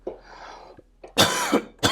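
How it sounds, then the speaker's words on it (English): A few harsh, close coughs, a brief throaty burst followed by two louder hacking coughs, with no talking. "Sorry, I have to cough."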